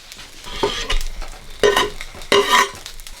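An egg goes into japchae, Korean glass noodles, frying in a hot pan, with a soft sizzle under stirring and three louder bursts of scraping and hissing, close up.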